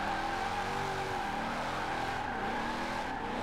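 A drifting car in Forza Horizon 4 holds a continuous loud engine howl with shifting pitch and squealing tires sliding through a sixth-gear roundabout, alone without voices.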